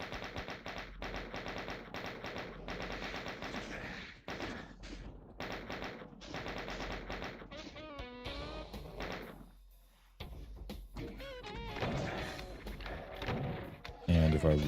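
Doom 2 gunfire in a voxel version of the game, heard as rapid, repeated shots and bursts that run almost continuously under game sounds, with a voice speaking over them.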